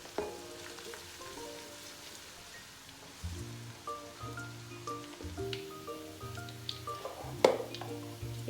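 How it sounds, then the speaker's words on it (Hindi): Tadka tempering for saag, with onions frying in hot oil in a pan, gives a soft, steady crackling sizzle under louder background music that plays with a rhythmic melody. "अब हम इसका तड़का तैयार कर लेंगे। तड़का हमारा रेडी हो रहा है।"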